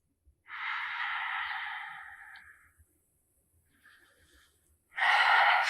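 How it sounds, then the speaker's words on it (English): Someone sits back on their heels in yoga hero's pose and breathes: a long, steady, airy exhale heard up close, a faint pause, then the start of another strong breath, with no talking. "Just breathe."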